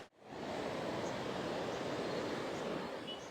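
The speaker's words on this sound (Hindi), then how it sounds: "I think you must be hearing a water sound" Water by a waterside makes a soft, continuous wash of broadband noise, steady and fairly faint, with no voices over it.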